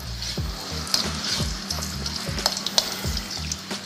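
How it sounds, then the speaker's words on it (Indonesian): Garlic frying in warm oil in a pan, a steady close sizzle and crackle with occasional stirring scrapes and small pops throughout. "Karena goreng bawang putih itu jangan dari minyak yang panas."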